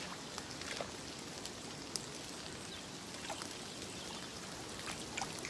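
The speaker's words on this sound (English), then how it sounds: "Just starting to rain as well." Light rain beginning to fall over a river during a fishing session, a soft, steady hiss with faint scattered patters and the gentle wash of flowing water, no voices.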